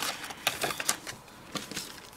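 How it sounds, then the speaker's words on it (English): Scissors trim paper inserts with a quick series of crisp snips and rustles, irregular and close, in a quiet room with no talking. "So I'm just going to take scissors,"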